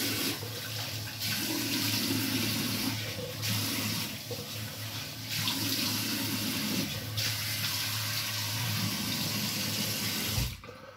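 A bathroom tap runs in a steady, fairly loud stream as water is used to wet the face before shaving, then cuts off abruptly near the end.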